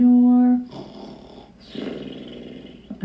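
A single voice imitates a giant snoring during a spoken folktale reading, giving one drawn-out, rumbling snore after a brief sung or hummed tone, fairly close and moderately loud.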